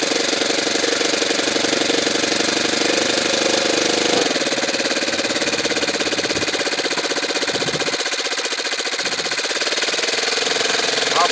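A Saito twin-cylinder model glow engine running at a low throttle setting, a loud, continuous buzzing drone with a rapid rhythmic firing pulse that dips slightly in pitch partway through, heard up close.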